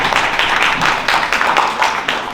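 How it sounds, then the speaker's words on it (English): A small audience claps along in a loose, rhythmic pattern, bursts of hand claps pulsing roughly twice per second, close and fairly loud, with a cheer rising among the claps. "Come on, clap it up again."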